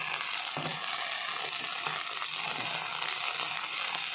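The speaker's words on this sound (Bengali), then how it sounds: "মশলাটা আমার ভাজা ভাজা হয়ে গেছে।" Spices sizzle and fry in a pan while a chicken and potato curry is being cooked, giving a steady, close crackling hiss with a few soft stirring scrapes and no talking.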